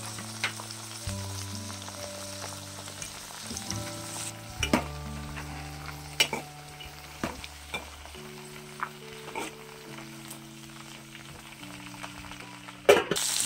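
Peanuts frying in oil in a pan for gongura pickle, a steady sizzle with occasional stirring clinks and scrapes throughout, close and moderately loud with no talking.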